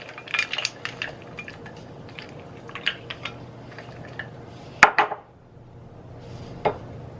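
Clinking and scraping of a utensil stirring melting dark chocolate in a bowl, a few irregular taps with one sharper knock near the end, close and fairly quiet.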